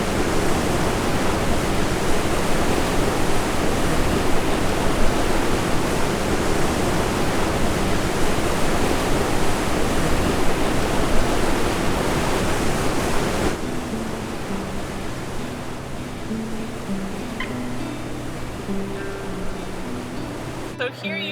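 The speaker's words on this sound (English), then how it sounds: "So here you can see the current is actually picking up in front of us." Fast tidal current and whitewater rapids on the British Columbia coast give off a loud, continuous rushing roar that drops to a softer, steady wash partway through, with faint voices in the background.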